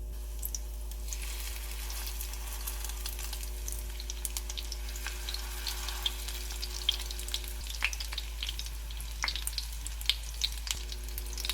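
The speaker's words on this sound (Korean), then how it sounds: "예일된 팬에 올리브유 넣어주고 삶을 올려준 다음 중불에서 노릇하게 구워줍니다." Korean cabbage wraps fry in olive oil over medium heat in a pan, making a soft, even sizzle with scattered small pops and crackles throughout.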